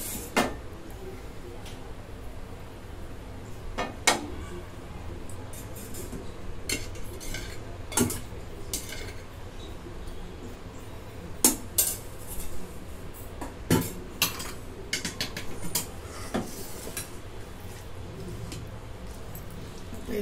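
Paneer tikka ingredients being stirred in an oiled pan, with a spoon clinking and scraping against the metal in irregular sharp knocks over a low sizzle, close by, with no talking.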